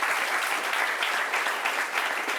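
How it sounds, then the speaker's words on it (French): A studio audience on a talk show applauds a guest, a loud, dense burst of clapping that stays even throughout. "On l'applaudit très fort."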